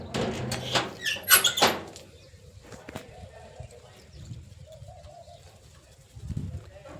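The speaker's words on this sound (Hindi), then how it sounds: "पीछे देखो बैकग्राउंड में अभी भी कितनी ज़ोर ज़ोर से चिड़िया की आवाज़ आ रही थी चहकने की" Birds chirp and squeak outdoors in a village field in a lively burst at first, then call more sparsely and quietly against a calm background.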